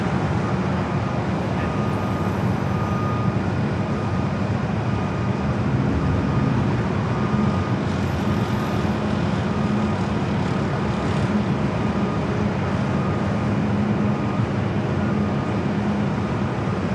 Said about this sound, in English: It's brand new A321neo heading to Atlanta, rolling down at 24 left